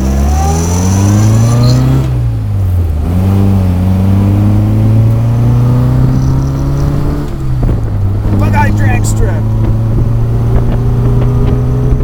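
Small-engined 1960 Bugeye Sprite sports car driven along a shoreline road, its engine droning steadily close up with rising and falling revs through gear changes, easing off then pulling again.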